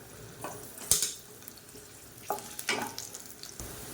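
Garlic and a lump of tamarind fry in hot oil, giving a steady low sizzle close by, punctuated by a few sharp spatters and stirring clatters.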